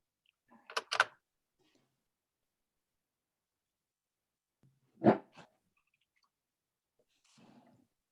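A dog fitted with a bark collar gives a couple of short, sharp barks a few seconds apart, quiet and indoors, with near silence between them.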